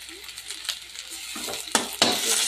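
Ginger paste frying in a pan with garlic paste and peas for a pomfret fish curry, a soft steady sizzle joined by sharper scraping stirs and pan knocks that grow louder toward the end, with no voices.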